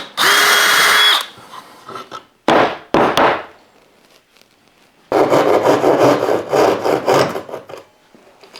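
Small notches being cut into a wooden track saw jig with a power saw: a loud buzzing cut near the start, two short bursts in the middle, then a longer rough sawing pass at the end, with quiet gaps between.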